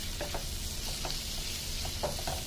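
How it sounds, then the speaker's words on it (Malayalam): Hot chili powder and spices fry in a pan for paneer masala, making a quiet, soft sizzle broken by a few gentle stirring scrapes. "ഇതൊന്ന് മൂത്ത് വരട്ടെ"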